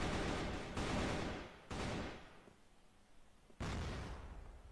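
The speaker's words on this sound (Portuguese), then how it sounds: "Vem ali granada do KL." Grenade blasts in a competitive CrossFire esports match, three loud booming explosions in quick succession, each with a broad burst that decays into rumbling tails.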